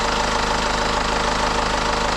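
A BMW 520d with the M47 diesel engine idles roughly, giving a loud, steady, close-up knocking rumble throughout with no voices.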